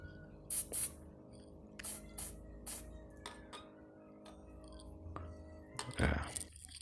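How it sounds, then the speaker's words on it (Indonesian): Carburetor cleaner sprayed into the fuel passages of an NPP PZ30B carburetor, several short sharp hissing bursts close to the microphone, separated by quiet pauses, with a longer, louder spray near the end. "Jalur-jalur bahan bakar dibersihkan, disemprot pakai karbu cleaner ya kan ya."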